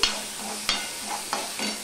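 Onion and garlic fry in oil over a medium gas flame, a soft continuous sizzle broken by three sharp stirring scrapes at regular intervals.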